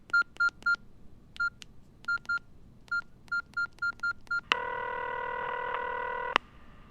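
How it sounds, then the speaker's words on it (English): Telephone number dialed on a touch-tone phone: a series of crisp DTMF beeps in short groups, followed by a sustained ringing or connection tone, with no talking. "I dialed"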